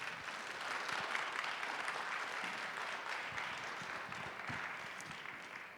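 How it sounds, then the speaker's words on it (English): Audience applause at a lecture, a dense, steady clapping from a full hall lasting the whole stretch without breaks, no voices over it. "What great applause."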